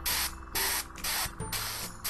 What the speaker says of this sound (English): You can hear there the air's coming out a little bit.